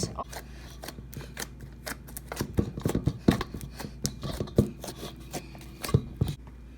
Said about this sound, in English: I'm gonna pull it out of the bowl with my hands.